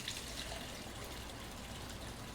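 Slushie maker on its water rinse cycle, giving a steady, continuous gush of running water that stays even and fairly loud throughout, with no voices.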